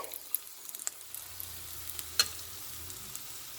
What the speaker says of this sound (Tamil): இப்போ பாருங்கள் ஃப்ரெண்ட்ஸ் நாங்கள் விட்டு எண்ணெயில் எல்லாம் வதங்கிட்டுது